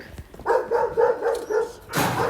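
Several sharp barks come in a quick series, fairly close, followed by a louder burst of noise near the end. No one speaks.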